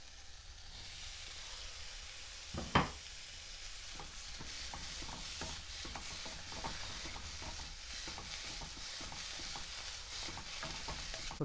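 Vegetables stir-fry in a pan for a bread stir fry, a soft steady sizzle with faint scrapes of stirring and one sharp clatter early on, quiet and without speech.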